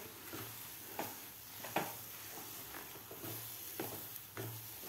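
Semolina and mango filling being sautéed in a pan, a faint, steady sizzle with soft scraping stirs at irregular intervals, close and quiet with no talk.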